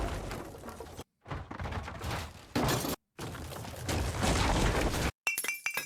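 Several separate crashes and smashes of breaking glass, loud and close, each burst followed by scattering debris, with brief silent gaps between them.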